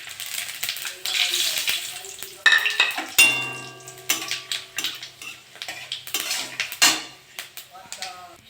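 Dried red chillies and five-spice seeds crackle and sizzle in hot mustard oil in a kadai, with sharp clanks of a spatula against the pan and a low hum underneath, loud and close.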